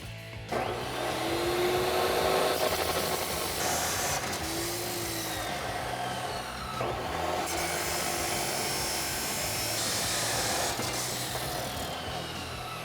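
A power tool cuts through stainless steel muffler inlet pipes for a Silverado/Sierra 5.3L dual exhaust system, a loud, sustained whine close by in several long passes with short shifts in pitch between cuts.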